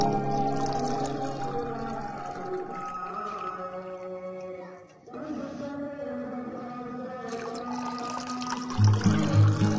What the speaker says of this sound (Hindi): अभी इसके अंदर हमने पानी ऐड करना है।